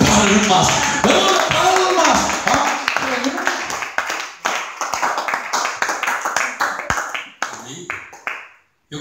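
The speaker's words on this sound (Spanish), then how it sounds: "eso amerita que usted y yo le demos una ofrenda de palmas" Congregation in a church service clapping hands together in rhythmic waves, loud and dense at first, thinning into scattered claps and taps as it fades, with some voices under it.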